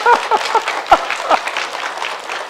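Audience at a Korean health lecture clapping: a short burst of close, loud handclaps, a few distinct claps at first, then merging into denser applause.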